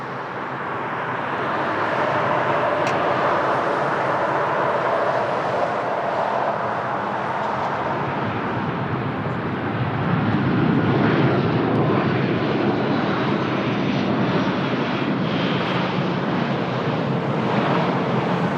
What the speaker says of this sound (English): It's one of the biggest aircrafts landing at Lisbon Airport. It's a 777 extended range.